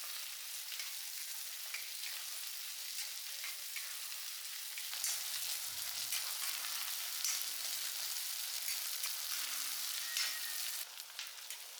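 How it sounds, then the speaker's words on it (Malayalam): Chopped onions and green chillies sauté in hot coconut oil for a steady, close sizzle, with a few soft stirring scrapes partway through and no voices. "നമുക്ക് ഉള്ളി അതുപോലെ പച്ചമുളക് അതിട്ട് നല്ലപോലെ ഇനി വഴറ്റി"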